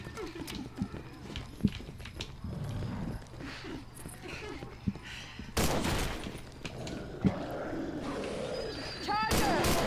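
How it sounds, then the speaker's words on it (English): Gunfire in the Left 4 Dead 2 video game, scattered shots and bursts over a busy mix of game effects, with a player talking throughout. "Spin him around and shoot him in the back."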